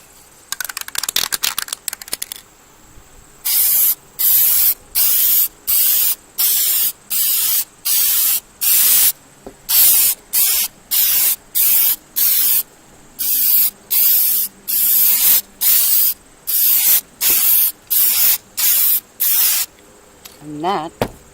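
Rapid bursts of aerosol spray paint coat flatware, about twenty short hisses in a steady on-off rhythm, loud and close, with a brief clatter at the start.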